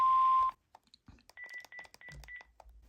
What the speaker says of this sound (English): Record greeting after the beep.